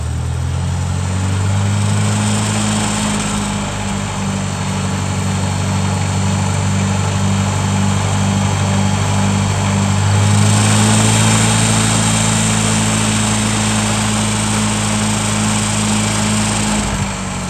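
A tractor engine running steadily to drive the PTO and a homemade sprayer pump, a loud close droning hum with a slight surge in pitch partway through, no speech.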